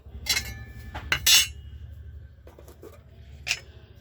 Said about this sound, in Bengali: তো আমি একটা কড়া বসিয়ে নিলাম